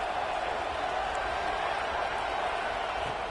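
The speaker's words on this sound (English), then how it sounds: "listen to this crowd noise. This stadium is vibrating." Stadium crowd noise from a football video game: a steady, dense roar of a large crowd, loud and continuous throughout with no distinct cheers or pauses.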